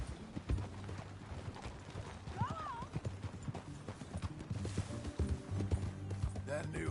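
Steady clip-clop of horse hooves at a walking pace in the video game Red Dead Redemption 2, with a brief whinny partway through, close and moderately loud.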